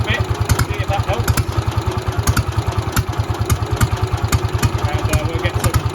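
A JAP Model 55 stationary engine, meant for paraffin, running with rapid, even thumping firing pulses and mechanical clatter, close and steady throughout; someone speaks over it.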